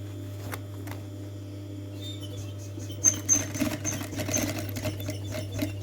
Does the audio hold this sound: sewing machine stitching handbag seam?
yes